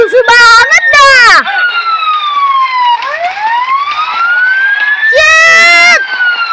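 A fire truck siren from the TheoTown city-building game wails loudly with rising and falling sweeps, plus bursts of rapid warbling yelp tones near the start and the end. A voice exclaims over it.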